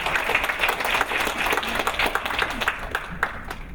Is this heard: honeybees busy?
no